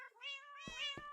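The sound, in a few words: cat meowing in Minecraft video game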